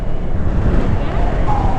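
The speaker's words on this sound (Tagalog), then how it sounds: "Grabe yung hangin, ang bango, sariwa." Loud, steady wind roar buffets the microphone throughout while riding a Honda PCX160 scooter on a long breakfast ride around the Taal loop, with only the low engine drone faintly beneath it.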